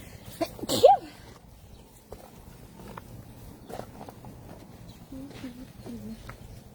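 A single sharp sneeze near the start, then quiet outdoor ambience with faint footsteps and distant birds.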